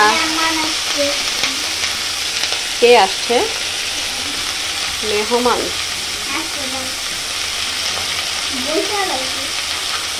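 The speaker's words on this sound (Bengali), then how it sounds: "তো এই কড়াইতেই তেলের মধ্যেই আমি বরবটি ভাজিটা করে ফেলবো।" Yardlong beans fry in oil in a wok with a steady broadband sizzle throughout, while people talk intermittently over it in a home kitchen.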